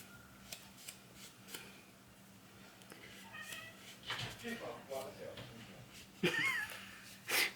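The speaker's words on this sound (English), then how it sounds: "My husband's having an argument with a cat." A cat meows and caterwauls in short, loud bursts near the end, with quieter cries earlier, all over a low background hum and scattered rustling.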